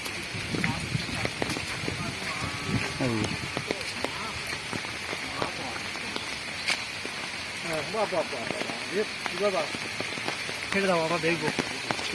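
Heavy overnight rain pours steadily onto surfaces around a small flooded neighbourhood drain, a dense continuous hiss with scattered drips and a few splashy sounds, while people talk over it.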